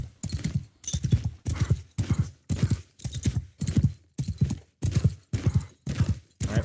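Horse hooves clip-clop in the Bannerlord video game with the Tales From The Age Of Men mod, a close, steady, rhythmic pattern of about ten evenly spaced beat clusters, each a quick burst of thuds with brief gaps between.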